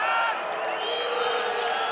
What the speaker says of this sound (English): Crowd getting a little restless here in Bezier.